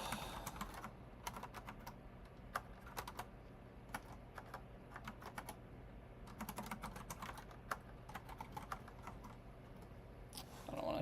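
Computer keyboard typing during a coding session, a steady run of close, light key clicks with brief pauses and bursts, no talking.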